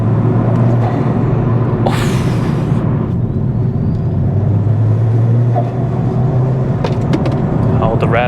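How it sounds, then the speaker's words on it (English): A turbocharged 300hp Ford Fiesta ST engine roars loudly and continuously, with a hissing rush of intake air and a sharp whoosh partway through, the revs held high. "The mix between the air being sucked in through the intake"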